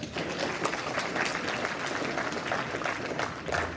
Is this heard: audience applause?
yes